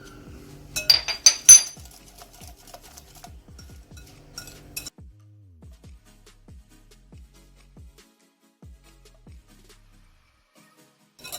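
Cupcake batter for Spanish cupcakes is mixed in a bowl with salt and vanilla added, a burst of loud clinking and scraping early on, then a steady series of soft, rhythmic taps and knocks that fade gradually.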